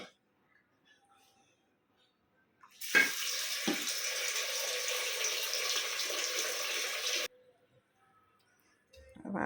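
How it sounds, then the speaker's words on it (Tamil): Soaked urad dal for vada batter is washed under running tap water, a steady rush lasting about four seconds between quiet stretches, with soft whispering nearby. "நல்லா களைஞ்சிட்டு உளுந்த களைஞ்சிட்டு ஊற போட்டால் அப்படியே ஆட்டிக்கிடலாம்"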